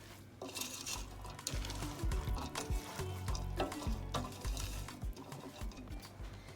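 Black-eyed peas and channa cook-up rice being stirred in a pot, Guyanese style, with repeated scraping and clinking of a spoon against the metal, close and steady throughout, no talking.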